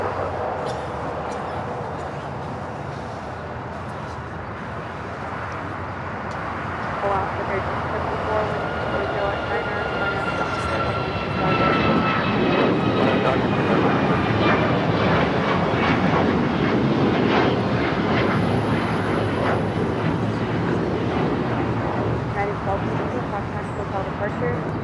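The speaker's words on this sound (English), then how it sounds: "Next takeoff, also flight headed to Denver. United Airlines Flight 1260 at 737 MAX 9." A United Airlines 737 MAX 9 jet takes off at LAX, with a broad, steady engine roar that swells and holds loud through the second half.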